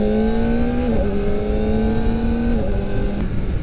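A Kawasaki Ninja ZX-4RR motorcycle engine runs at a high, steady pitch close by, dropping slightly twice as the revs shift, a loud continuous whine with no talking.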